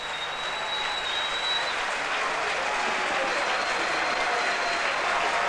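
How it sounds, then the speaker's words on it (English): A very large crowd at Headingley applauds a try during the 1995 Rugby League World Cup match between England and South Africa, giving a steady, distant roar of clapping that stays even throughout. "He's getting well-deserved applause from a very large crowd at Headingley."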